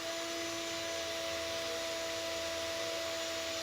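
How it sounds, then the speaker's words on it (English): A power drill with a larger bit boring partway into the wooden top of a cookie tin ukulele, giving a steady, continuous whine with a strong tonal hum, close and unbroken. "we're going to start the top of the hole with a bigger drill bit, but not go right through the wood"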